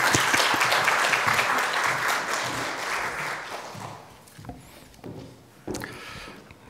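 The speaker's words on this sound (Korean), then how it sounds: "우리 박수로 환영을 한번 하시죠." A church congregation claps to welcome a pastor at a Sunday afternoon service, steady applause that swells at first and then thins out into scattered claps before fading.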